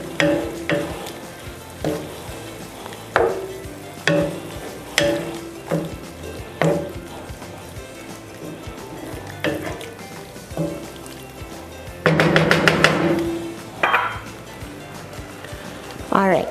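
About 200 grams of cut-up crab meat is stirred into a sizzling sauce in a pan, with rhythmic scraping strokes of a utensil every second or so over a low sizzle, and a person talking throughout.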